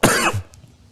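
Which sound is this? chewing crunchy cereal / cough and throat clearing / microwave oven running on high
cough and throat clearing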